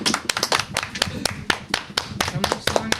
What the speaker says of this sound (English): Yeah, you guys clap.